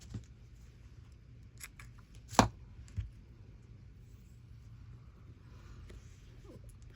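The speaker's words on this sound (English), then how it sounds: "let me cut a strip of this one" Scissors snipping a strip of paper at a crafting desk: a few sharp, brief cuts, one louder snip standing out, over a quiet room hum.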